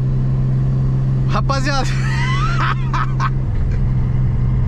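A turbocharged BMW E36 engine drones loudly and steadily at close range throughout, with a low constant hum and a slight shift near the end, while someone talks excitedly over it.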